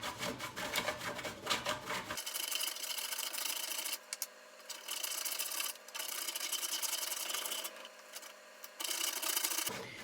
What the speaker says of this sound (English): it takes a lot of patience to grate down a chocolate bar